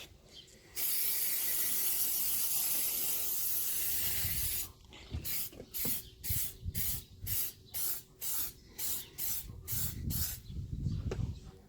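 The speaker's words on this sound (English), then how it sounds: "So I'm just going to build up another layer of lacquer quickly." Lacquer sprayed onto a Toyota Yaris Mk1 car part: one long steady hiss of spray, then a run of short rhythmic bursts, close and fairly quiet, with no voices.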